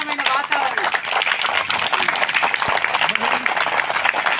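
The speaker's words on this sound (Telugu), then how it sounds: "కొట్టండి, క్లాప్స్ కొట్టండి" Audience clapping fills the room steadily throughout, with a voice talking over it at a school gathering.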